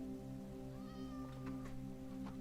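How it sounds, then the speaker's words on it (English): A cat meows in the Minecraft video game, one drawn-out rising call over a steady hum of game background sound, with no talking. "There's a cat somewhere."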